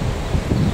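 Steady wind gusting outdoors among pine trees, a broad rushing roar with leafy rustle and some microphone buffeting, close and fairly loud with no talking.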